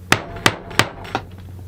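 A hammer drives a leather punch through leather backed by two pieces of plywood. Four sharp, close, evenly spaced whacks with no talking.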